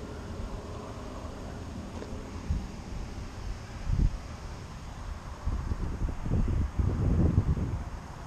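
Gusty wind blows outdoors on a blustery day in a residential neighborhood while a drone flies, a steady rushing buffet against the microphone that swells into louder rumbling gusts in the second half.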